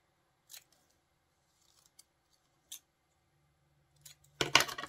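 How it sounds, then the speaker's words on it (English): Scissors snip through vintage sewing pattern paper for a collage, a few soft, sparse cuts, then a louder crisp rustle and snip at the end, close and quiet with no speech. "Let's cut it down and bring it over there."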